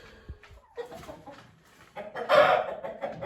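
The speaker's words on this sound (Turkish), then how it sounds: "Tavuklar kümese girmiş." Chickens cluck and call close by in short bursts, with a louder squawking flurry partway through.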